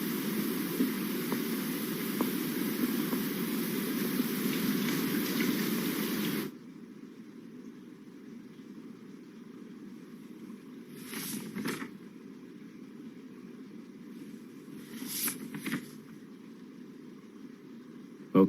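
Steady rain falls outside in an animated scene, a dense even hiss that runs loud for several seconds, then drops to a quieter wash with a couple of brief swells.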